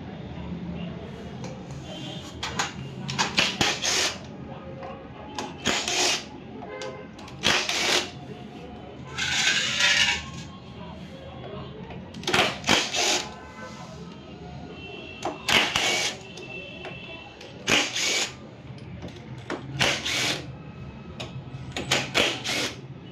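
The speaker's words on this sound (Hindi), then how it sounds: "ये फ्रेंड्स, हमने पूरे नट खोल लिए, ये आपके सामने क्लच कॉर्ड खुल गया।" Tools working nuts loose on the clutch cover of a Honda X-Blade motorcycle at 51,000 km, with repeated bursts of ratcheting and metallic rattling separated by short pauses over a low background rumble.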